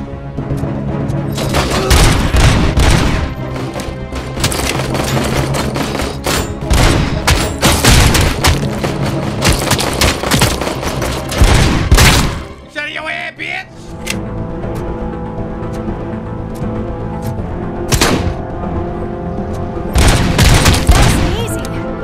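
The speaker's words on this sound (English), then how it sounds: "I was just testing out my gun" Loud, close bursts of gunfire from the player's handgun in RoboCop: Rogue City, fired in rapid clusters that break off briefly midway and then resume with a few more heavy shots.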